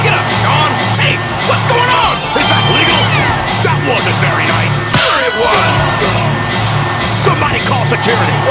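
A big arena crowd in the WWF Wrestlemania arcade game cheers and roars continuously, with crashes and whoops mixed in and game voices speaking over the noise.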